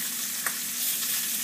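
Bacon fries in hot grease with a steady, close crackling sizzle and a few brief pops. The sound is short and fairly quiet.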